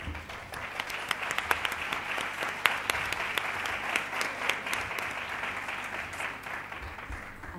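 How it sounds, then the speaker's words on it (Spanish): An audience at a Spanish academic talk applauds a speaker as she is introduced, a steady, fairly close burst of many hands clapping that lasts throughout. "Un aplauso, por favor."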